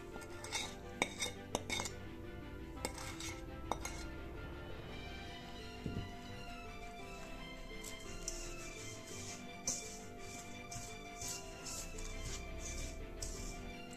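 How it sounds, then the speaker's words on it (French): Almond powder and sugar mixed in a bowl, a steady quiet stirring with frequent small clinks and scrapes of a utensil against the dish, faint and fairly continuous. "dans un saladier, il faut mélanger la poudre d'amande,"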